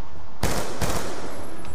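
Sudden bursts of rapid automatic gunfire from a friendly hunter-killer drone in a video game, two loud dense volleys close together that then trail into a sustained rumbling wash.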